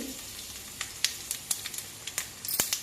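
Faint, quiet sizzling of dried red chillies and tempering spices frying in hot oil, with scattered sharp pops and crackles.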